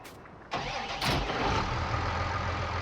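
A tractor engine cranks and catches in Farming Simulator 19, a brief starter whir followed by a second surge into a steady, loud, rumbling idle that fills the rest of the moment.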